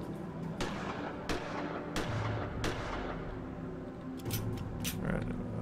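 A handful of sharp, separate gunshots in the adventure game Gemini Rue, quiet and spaced a second or so apart, with a quick double shot near the end over a low background hum.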